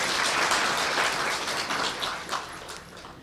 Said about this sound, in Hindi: तो अपने लिए ताली बजाओ